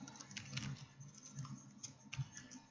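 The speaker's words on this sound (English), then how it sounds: "Trying to see if I can type here." Fingers patter across a computer keyboard, quick soft key clicks in uneven bursts, close and fairly quiet, with no voices.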